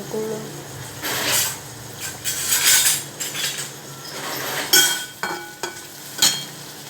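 Potatoes roast in a pan for a potato chutney, with metal utensil scrapes and clatter against cookware in bursts over a soft background sizzle, close and fairly loud.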